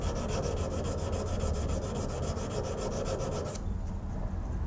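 A knife blade is hand sanded, a steady rhythmic back-and-forth rasping of abrasive strokes that stops abruptly near the end, close and clear.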